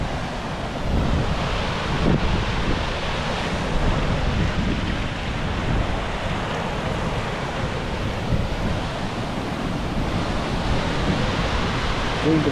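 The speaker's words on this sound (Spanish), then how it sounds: "Se escucha caer el agua." Loud, continuous rushing of the Salto del Penitente waterfall, a broad roar with gusty wind buffeting the microphone, steady for the whole stretch.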